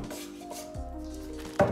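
A knife cuts white cabbage on a board in a home kitchen, a few soft scraping strokes and a sharper knock near the end, close and quiet with no talking.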